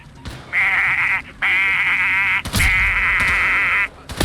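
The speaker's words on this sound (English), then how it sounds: "Just goat noises." Goat bleats from the video game Payday, three loud, drawn-out nasal cries in quick succession with brief gaps between them.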